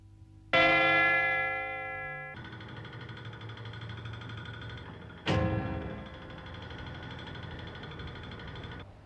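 A warning bell nearly 120 years old on the East Pier at Dún Laoghaire, struck twice with loud metallic clangs whose long ringing tails hang in the air between and after the strikes.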